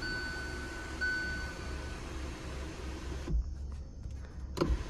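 An electric sunroof on a 2023 Kia Sonet HTX opens with a soft, steady motor whir heard close inside the cabin, then cuts off, followed by a couple of light clicks and thumps.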